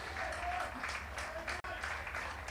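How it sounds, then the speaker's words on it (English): Cricket crowd at a Yorkshire v Leicestershire County Championship match applauds Colin Ackerman reaching fifty: steady, moderately distant clapping across the ground under a commentator's voice, with one brief drop-out. "warm applause because that brings up Colin Ackerman's 50 for a second time in this match"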